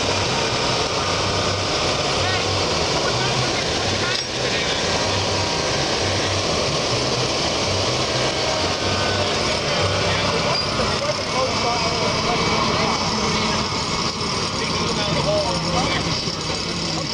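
A 1979 John Deere 400 garden tractor drags an 1,800-pound stone boat at an adult firemen's pulling contest, its engine a steady, loud, rough drone held throughout, with voices faintly in the background.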